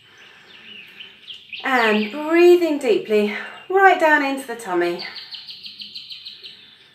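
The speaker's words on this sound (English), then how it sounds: "I'm going to close my eyes for a moment and just listen to the lovely birds." Birds chirp and tweet softly in the background of a relaxing soundtrack while someone speaks calmly over them.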